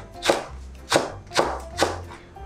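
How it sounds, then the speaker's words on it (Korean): A knife thinly slicing Cheongyang chili peppers on a cutting board for spicy squid and radish soup, four crisp evenly spaced chops sounding close and clear with no talk. "청양고추는 좀 얇게 썰어주세요."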